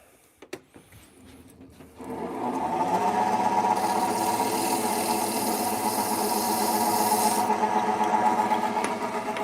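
Power sanding of a charred metal and walnut ring blank begins after a few light clicks, then holds a steady, fairly loud whirring drone with some high abrasive hiss that comes and goes.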